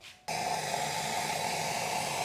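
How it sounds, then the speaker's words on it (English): Boiling water is poured over dried chilies for homemade chilli oil: a sudden, steady, close hiss of flowing liquid that starts after a short pause and continues unbroken. "And I'm just going to pour boiling water."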